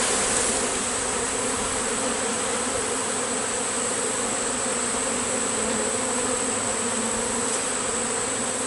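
Honeybees buzzing steadily around an open hive during an inspection, a dense continuous drone of many insects close by that holds at an even level throughout, with no talking.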